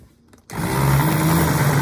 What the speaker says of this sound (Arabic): وهنضرب في الخلاط لحد ما يندمج كل المكونات